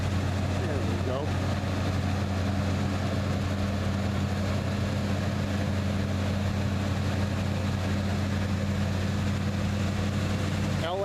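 A 1978 Silver Anniversary Corvette with the optional L82 engine fast-idling on choke in a cold winter driveway, a steady low drone with a constant hum throughout, close and even.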